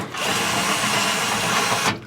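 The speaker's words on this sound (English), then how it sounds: "thankful to Al Bunny for these attachments from the drill. It actually turned me into a zippy gun," A power drill fitted with an attachment spins out bolts on a boat engine during an oil and filter change. It gives one loud, continuous whir for about two seconds, then stops abruptly.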